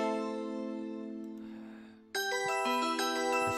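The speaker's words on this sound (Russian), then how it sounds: "и в конце я добавил таких колокольчиков" Synthesized bell tones made in FL Studio without an arpeggio, first a sustained ringing chord that slowly fades, then a brighter, louder layer of chiming bells enters and rings on alone.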